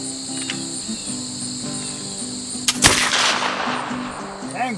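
A .45-caliber Kentucky muzzle-loading rifle fires a single sharp shot after a hang fire delay, the report landing about midway through, with crickets chirping steadily outdoors throughout.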